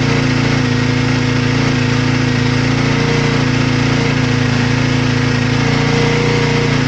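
A motorcycle engine runs at a steady, raised speed of about 3,500 RPM with the choke set, giving a loud, constant drone close to the microphone, with no talk.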